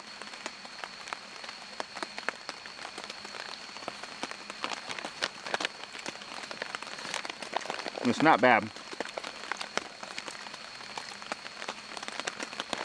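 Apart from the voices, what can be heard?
rain falling on tarp shelter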